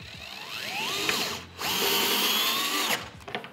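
A power drill tightens bolts on a Can-Am Defender utility cargo rack, with two close bursts of whirring motor whose pitch rises and falls under load, separated by a short pause, then a few brief clicks.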